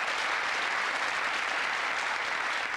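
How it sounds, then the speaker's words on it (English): A studio audience at a 1990 British TV game show applauds in a dense, steady wash of clapping, loud and even throughout, with no individual voices standing out. "We'll give a round of applause."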